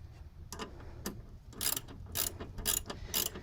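Bolt on the front lower control arm of a 1997 Nissan Maxima being tightened with a ratchet, giving bursts of quick clicking strokes that grow louder toward the end, close up with no talk.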